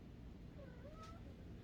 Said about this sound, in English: our cat is whining. I'm sorry. She wants out.